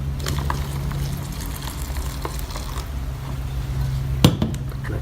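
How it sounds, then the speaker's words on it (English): Boiling water, 300 ml, is poured into a freeze-dried apple pie pouch at a camp setting, giving a steady, soft liquid rush and sizzle over a low hum, with a brief sharp knock near the end. "I'm going to pour 300 ml of boiling water in."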